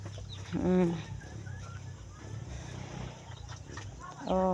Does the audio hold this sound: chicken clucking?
yes